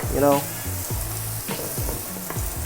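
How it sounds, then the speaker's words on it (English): Noodles with onion and pork sizzle and crackle steadily in a hot pan, with a few scraping stirs along the way. "if you can see bubbles sizzling, just move it around, move your pan around"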